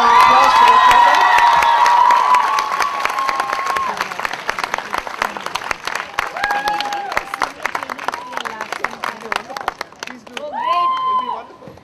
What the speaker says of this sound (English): if we could please give a big round of applause to Dr. Atta